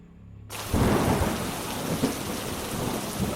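Heavy downpour with rolling thunder in a Hindi cartoon story at dusk, as travellers head toward a mysterious cave; after a brief quiet start, dense loud rain roars steadily with low thunder rumbles underneath.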